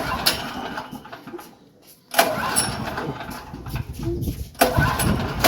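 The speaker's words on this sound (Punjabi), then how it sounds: "ਇੱਥੇ ਜੀ ਜਨਰੇਟਰ ਸਟਾਰਟ ਕਰਨ ਲੱਗੇ, ਕਿੱਕ ਫੜਨੇ ਜੀ ਮਾਰਨੇ" A generator is kick-started several times, with bursts of engine sputter and cranking noise separated by a short quiet gap, close by and fairly loud.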